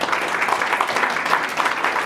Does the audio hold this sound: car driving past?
no